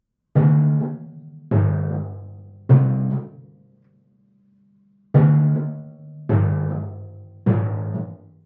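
Six deep, resonant timpani strokes from a waltz passage in Der Rosenkavalier, each ringing out and fading, spaced in a slow lilting pattern with a pause in the middle.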